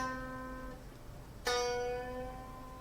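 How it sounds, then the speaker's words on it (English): Two plucked electric guitar notes played cleanly with no effects, the second a half-step string bend rising up to the next note; each note rings and sustains alone, the second attack sharper and brighter. "a string bend and bend it up to the next note"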